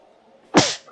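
A single short, sharp sneeze bursts out close by after a moment of quiet.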